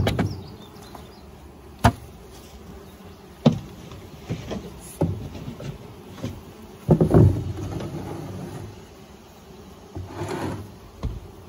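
A low insect buzz of honey bees hovering nearby at a hive harvest, rising and fading, broken by several sharp knocks and thumps.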